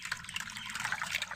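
Water trickles and splashes steadily while bhola fish are rinsed, a soft close pour with no voices.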